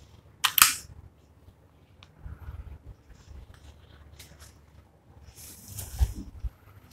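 An ASG CZ P09 CO2 air pistol fires low on gas, a couple of sharp, close pops well apart, with soft handling rustles and clicks between them in a quiet room.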